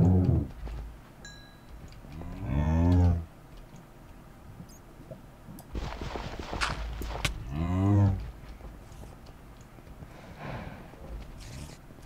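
Minecraft cows let out several loud, drawn-out moos, close by at irregular intervals, with faint game ambience and soft footsteps between them.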